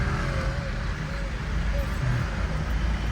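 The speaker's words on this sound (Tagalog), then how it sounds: "naabutan tayo ng traffic" Road traffic crawls near Baguio Cathedral, a steady rumble of car and bus engines close by in a slow-moving jam, with talk over the noise.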